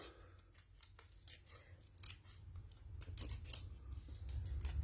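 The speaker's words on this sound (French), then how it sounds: "je vais le couper parce qu'il est un peu trop gros. Je vais vraiment le couper à ras" Scissors cutting a paper message for a handmade multi-fold card, giving quiet, close snipping and rustling over a low background hum.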